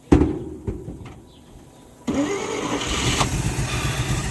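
A 1948 Chevy car engine, off the road since 1968, cranks with a few sharp clicks and short bursts, then catches and settles into a steady, close running idle.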